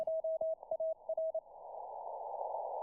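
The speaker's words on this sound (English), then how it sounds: "Like, it sounds like Morse code." A steady tone keys on and off in short Morse code dashes and dots on a shortwave ham radio band near 14030 kHz, then gives way to a rising hiss of radio static.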